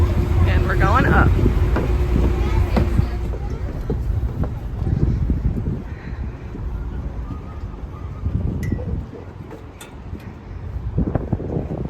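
Water taxi ride between the wharf and National Harbor on a rainy day, with a steady engine and water rumble under heavy, gusting wind buffeting the microphone throughout.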